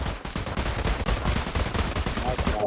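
Rapid, loud gunfire crackles continuously at close range during firearms training on a spoken command. The volley of shots lasts the whole moment without a break.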